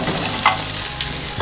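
Onions and potatoes fry in butter in a pan, a close, steady sizzle with a couple of faint stirring clicks over a brief stretch.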